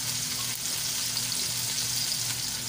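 Sitaw string beans sizzle in a pan of frying tomatoes for a shrimp dish with coconut milk, a steady, close crackling hiss running throughout with a low hum beneath and no talking.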